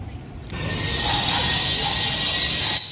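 A train at the Zurich International Airport station rolls in with a steady rumble and thin, high wheel squeals that hold for a few seconds before cutting off.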